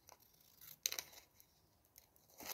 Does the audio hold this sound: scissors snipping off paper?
yes